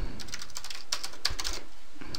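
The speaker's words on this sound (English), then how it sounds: "So type in Gaussian blur." Fingers tap on a computer keyboard while entering an effect name in editing software, producing a quick, uneven run of light clicks close by.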